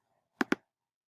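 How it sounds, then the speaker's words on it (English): Two quick key presses tapped on a Mac keyboard, close and crisp, alone against silence. "I'll select buttons on my keyboard"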